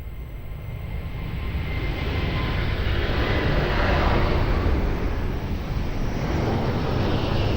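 Portugal 057 heavy airliner taking off from runway 02 at Lisbon Airport, a loud continuous broadband jet engine roar that swells and holds steady, heard from a distance without pauses.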